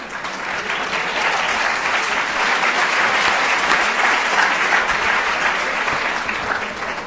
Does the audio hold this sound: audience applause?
yes